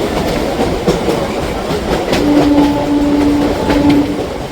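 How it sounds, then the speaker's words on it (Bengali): Howrah–Bardhaman super local train on the chord line pulling into Masagram station, with a steady loud rumble of rolling wheels and carriage noise and a faint drawn-out horn or brake tone in the second half. "ট্রেন আমাদের এখন প্রবেশ করছিল মশাগ্রাম স্টেশন।"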